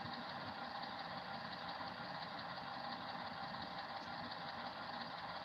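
Bachmann model train locomotive engine sound played from the B unit of an Alco set, a steady, continuous diesel-style rumble and hum that stays even and fairly quiet throughout with no talk.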